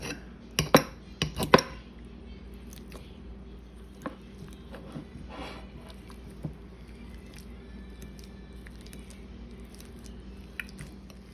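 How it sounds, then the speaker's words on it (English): A fork mashes peeled boiled eggs in a bowl: a few sharp clinks of metal on the bowl at the start, then soft squishy mashing and occasional light taps, close and quiet. "You're gonna just take a fork and mash them up a little bit."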